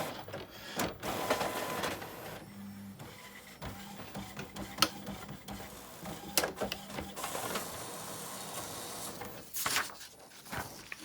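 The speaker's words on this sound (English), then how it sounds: "we'll go ahead and do a test print just to see what we got" An Epson WF-7710 inkjet printer running a nozzle check test page: whirring carriage passes, soft mechanical clunks and paper-feed rattles, fairly quiet and close.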